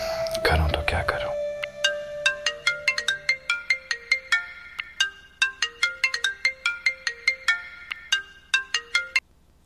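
A melodic phone ringtone in a Pakistani TV drama scene, loud and close, repeats a rapid chime pattern of bright notes that keeps going for several seconds after a brief low whoosh at the start.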